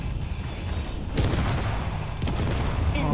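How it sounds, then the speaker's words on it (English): Loud, dense bursts of explosions and gunfire rumble continuously in a Space Engineers space battle with attacking drones, with two sharper blasts standing out among the steady booming. "Oh, I'm hearing a lot of explosions."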